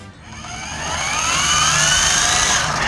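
A small indoor RC helicopter's motor whines steadily up close, the high buzzing pitch rising and wavering as it hovers and shifts left and right.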